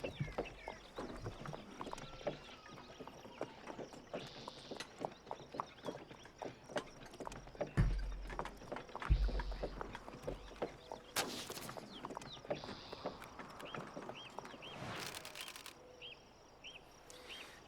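A horse-drawn wagon in the Oregon Trail game clip-clops along steadily, hooves beating in an even close rhythm with faint birds and a couple of louder thumps and creaks as it slows.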